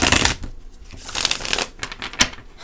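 A deck of tarot cards being shuffled up close, with dense riffling bursts and several short flicking snaps in an uneven rhythm, no talking over it.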